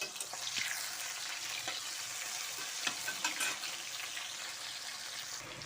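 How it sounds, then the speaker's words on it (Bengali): Mushrooms fry in a pan with a bright, crackling sizzle, steady throughout with occasional sharper pops and the faint scrape of stirring. "ধীরে ধীরে অর্ধেকগুলো দিয়ে দিচ্ছি ভাজা হতে"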